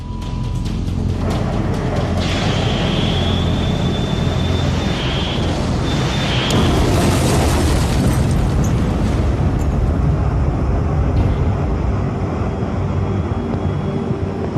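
A heavy, continuous roar of an aerial explosion and rumbling aboard the warship HMS Coventry fills the whole stretch, loud and dense, with a thin high whine cutting through early on.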